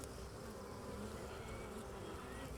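A honeybee hive frame lifted during an inspection sets off a dense, continuous buzz of many bees swarming around it, steady and close with no voices.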